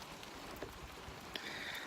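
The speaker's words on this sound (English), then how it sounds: "bit of rain coming through." Light rain falls outdoors as a faint, steady patter of soft drops, a quiet wash of sound with no voices.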